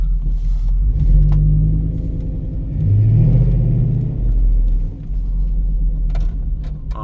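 A 1996 Chevy Tahoe K1500 4WD truck drives off, its engine rumbling loud and close, rising in two revving surges as it accelerates, with steady low road and cabin drone between.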